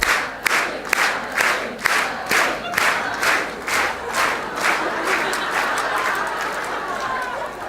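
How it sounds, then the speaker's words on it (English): A crowd at a Welcome to Country gathering claps along in unison to a count, producing a loud, evenly spaced beat of group claps that gradually blurs into looser scattered clapping and crowd noise. "I'm going to clap you in. I'm going to count you in. So clap with me, guys."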